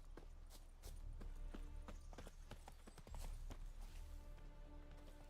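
Roach the horse trots along in The Witcher 3, hooves clip-clopping in a steady, close rhythm over a low game ambience.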